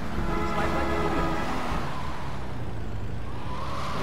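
Car driving in Grand Theft Auto 3 on the streets of Liberty City, a steady broadband engine and road rumble held at an even level for the whole stretch, with no talk over it.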